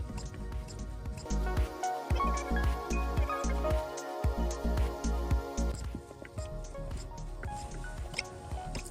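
The primer pump button on a Toyota 2.0 D4D diesel fuel filter is pressed over and over, giving close, rhythmic squishing clicks with a wet, liquid edge.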